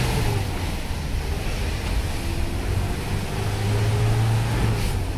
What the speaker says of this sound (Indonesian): Jadi kendaraan sudah bisa digenjot dengan kecepatan yang lumayan